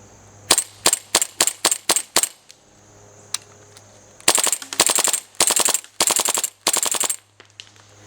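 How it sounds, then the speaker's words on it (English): A full auto airsoft pistol fed from a 1500-round drum magazine fires close up, first a string of separate sharp shots, then several rapid automatic bursts, each a dense mechanical rattle. "this is not only a semi-only pistol, but it's a full auto pistol"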